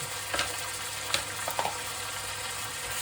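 Pork fillet browning in a hot pan with spices and powder, a steady bright sizzle and frying hiss with a few soft stirring scrapes and clinks, no talking.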